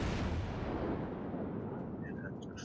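Heavy naval gunfire in the World of Warships video game, with a loud, deep, rumbling boom that fades out slowly over a couple of seconds, followed by faint higher-pitched tones near the end.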